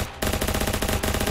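Rapid automatic gunfire in the Ancient Warfare 3 video game, a dense rattling burst that starts abruptly after a brief pause and keeps firing in quick rhythmic shots, with a short break near the end.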